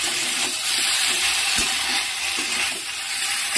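Ginger paste and spices sizzle steadily in hot oil in a pan for a magur fish curry, a close, continuous frying hiss with faint stirring.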